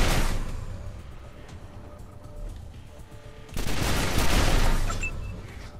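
A meson cannon fires in the video game Wasteland 2: a loud sustained burst of rattling blasts, a quieter stretch, then a second heavy wave of gunfire.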